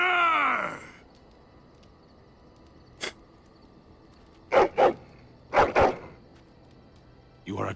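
A dog barks in the video game Dragon Age Origins, two pairs of short, sharp barks a second apart, with a brief voice or groan at the start and a few other in-game sounds.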